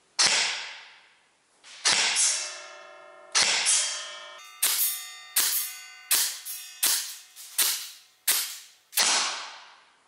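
An E&C M4 airsoft rifle loaded with 0.2 g BBs fires during a chronograph test: about eleven sharp, loud cracks spaced roughly a second apart, each with a brief ringing tail, close and with no talk.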